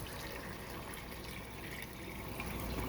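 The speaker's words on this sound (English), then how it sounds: "So what we do next here is we add water." Water pours steadily into a pot of Sicilian bean stew, a faint continuous splashing stream heard close and alone.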